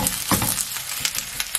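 Cabbage and Spam batter for an okonomiyaki-style pancake frying in generous hot oil in a pan over low heat, heard as a steady, close hiss and crackle with small pops and clicks.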